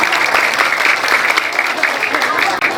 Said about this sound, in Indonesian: Tepuk tangan dong yang meriah.